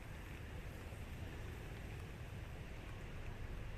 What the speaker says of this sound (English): We've got the wind and the rain all blowing in now